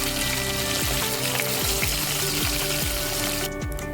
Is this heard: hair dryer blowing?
no